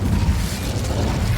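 Incendio fire spell cast in the game Hogwarts Legacy, a loud rumbling whoosh of flame with low booming bursts, sustained and dense from start to finish.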